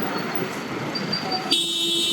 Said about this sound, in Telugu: హారన్ సౌండ్ వినిపిస్తుంది